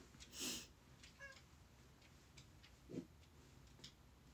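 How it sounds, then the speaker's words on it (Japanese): Two cats give short, faint meows indoors, a few brief calls spaced apart over a quiet background with light ticking. "猫が泣いている2匹も泣いています"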